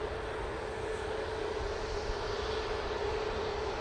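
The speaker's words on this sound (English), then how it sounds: "this is the KLM A321neo, going back to Amsterdam Schiphol" A KLM Airbus A321neo jet airliner heads for Amsterdam Schiphol, its engines a steady, even roar that holds at one level throughout with no voices over it.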